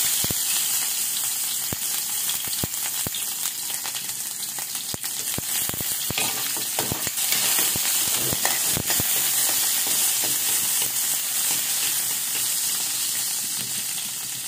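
Garlic and onion sauté in hot oil in a pan, a loud, dense, continuous sizzle with frequent crackling spikes and stirring clatter up close, without speech.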